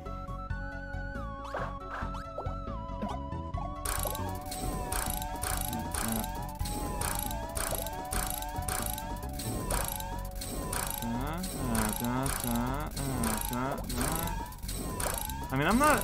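Repeated ratchet cranking from a mechanism in the video game Subzero Heroes, a steady clicking and grinding run over layered game effects and music, loud and continuous throughout.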